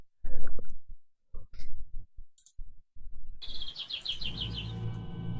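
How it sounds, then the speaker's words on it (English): Birds sing and chirp in quick clustered bursts in the second half, fairly clear over a steady outdoor rumble, after a stretch of scattered knocks and short sounds. "I can only hear the birds, so it's all fine."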